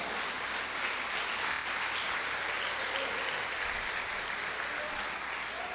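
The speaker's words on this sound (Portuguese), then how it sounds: "Glória, você pode aplaudir o Senhor?" Congregation applauding at a church conference service, a loud, sustained sheet of many hands clapping that carries on steadily from start to finish with no speech over it.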